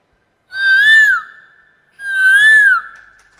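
A voice imitates a cuckoo with two clear, whistled calls, each a rising then falling tone about a second long, separated by a short pause.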